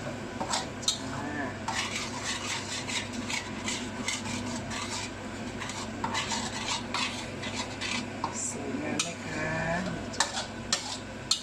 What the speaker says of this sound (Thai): ผัดพริกแกงให้หอมๆก่อนนะคะ